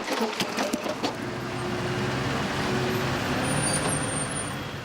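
Heavy trucks hauling marble blocks from mines to processors rumble past on a road, with a loud steady engine drone and a few sharp clanks at the start.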